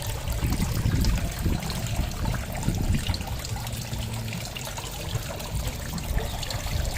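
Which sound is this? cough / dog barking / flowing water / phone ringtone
flowing water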